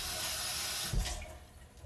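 Tap water running in a sink while galangal is washed for tom yum goong: steady close rushing water that shifts and splashes briefly as the root is moved under the stream, then thins out.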